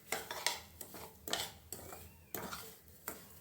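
Semolina (rava) roasting in ghee for rava kesari, a spoon scraping and stirring against the pan in quiet, irregular strokes with faint sizzling, no talk.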